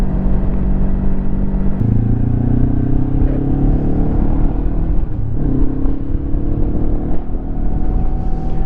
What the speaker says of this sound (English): I can tell by the sound of the engine where I'm at pretty much